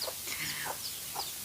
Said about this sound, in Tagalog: Mga manok, madungog ninyo ang mga manok